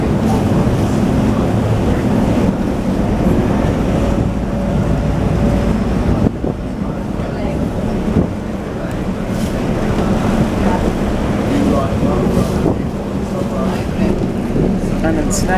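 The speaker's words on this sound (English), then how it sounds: "But on the water boat, it moves slowly." A water taxi cruises slowly through the canals of Venice, its low engine rumble and water wash steady and close under continuous wind buffeting, while a person talks over it.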